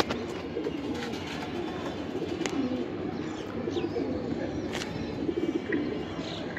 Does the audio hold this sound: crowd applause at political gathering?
no